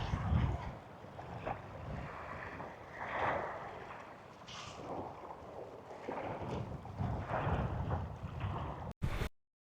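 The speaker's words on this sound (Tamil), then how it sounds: "நல்லா காற்றடிக்குது காய்ஸ்." Strong wind blowing near a temple tower on Pungudutivu island in rainy weather: continuous low rumbling gusts batter the microphone, rising and falling, then cut off abruptly.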